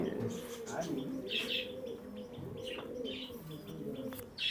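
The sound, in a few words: pigeons cooing, Indian and Pakistani breeds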